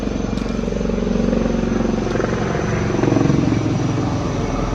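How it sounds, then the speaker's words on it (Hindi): A helicopter roars loudly and steadily, flying low close overhead along a river valley on the Dharchula to Gunji route near the Nepal border, its rotor chop thudding rhythmically throughout with no pause. "कितने सारे हेलीकॉप्टर चले गए भाई यहाँ। हेलीकॉप्टर बहुत उड़ते हैं।"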